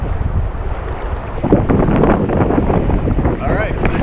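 Strong wind buffeting the microphone while kayaking on Lake Superior, a loud continuous rumbling roar mixed with splashing water and waves around the kayak.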